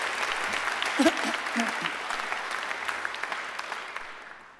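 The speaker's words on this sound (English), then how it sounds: "So let's give them a big round of applause" Sustained applause fills a graduation ceremony hall as the audience claps for alumni volunteers, a steady dense patter throughout with a brief voice near the start, fading slightly at the end.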